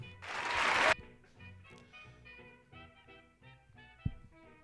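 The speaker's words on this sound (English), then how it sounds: "That was a really short applause." A brief burst of applause, under a second long, rises at the start of a podcast and cuts off abruptly, followed by quiet talk between hosts.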